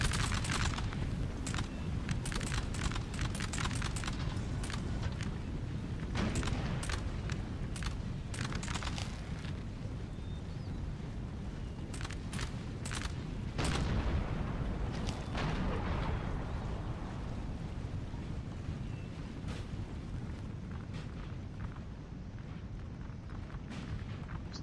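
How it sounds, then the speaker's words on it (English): Artillery fire in a Napoleon: Total War online battle, with canister shot in use; a dense, continuous rumble of booms and sharp cracks runs throughout, steady and moderately loud with no pauses. "Canister shots."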